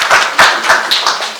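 Several distinct hand claps in a steady rhythm, close and fairly loud, coming from an audience at a Ugandan talk on a sovereignty protection bill.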